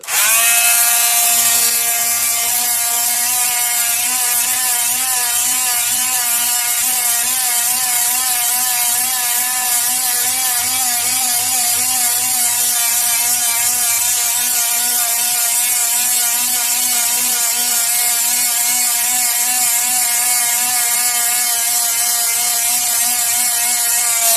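A Ferm multifunction oscillating tool sands wood stain with a loud, steady, high-pitched buzzing whine. The tone runs without pause for the whole stretch with a faint rasp from the surface, and there is no talk.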